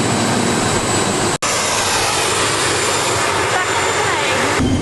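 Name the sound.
small Air Swift passenger plane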